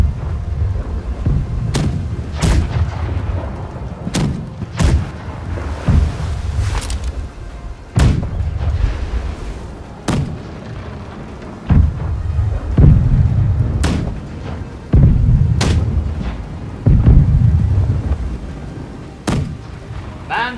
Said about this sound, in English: Front cannons, you can fire again now.